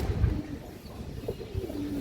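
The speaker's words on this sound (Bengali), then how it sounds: "এই দেখেন মাশাআল্লাহ খুবই সুন্দর একটা মাদি কবুতর" A female high-flying pigeon coos softly in low, throaty bursts, with a couple of brief rounded calls close to the microphone over faint background noise.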